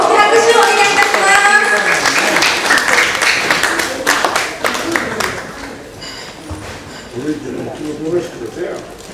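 Audience clapping at a Japanese community hall performance before a dance number, loud and dense at first, then thinning and fading, with voices and music-like sounds emerging toward the end.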